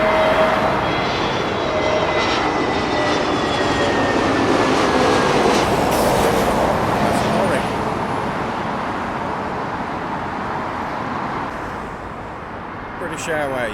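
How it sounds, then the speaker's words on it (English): An Aer Lingus Airbus A320neo jet at London Heathrow gives a loud, sustained engine roar with thin whining tones that drift downward, then fades gradually toward the end. "Aer Lingus A320neo"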